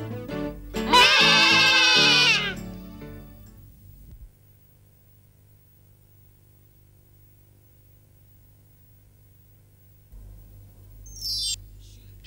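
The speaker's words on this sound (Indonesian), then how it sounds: "kambing biri-biri dalam bahasa Inggeris sheep" A sheep at a zoo lets out one loud, wavering bleat lasting about a second and a half, followed by a low steady hum and a brief faint sound near the end.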